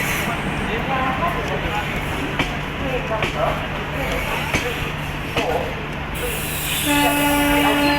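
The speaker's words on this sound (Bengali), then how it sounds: "স্টেশনের চার নম্বর প্ল্যাটফর্মে চলে এসেছে আজিমগঞ্জ প্যাসেঞ্জার" A steady, heavy rumble and hiss of the Azimganj passenger train at platform four of Farakka station, with voices around it and a sustained horn blast near the end.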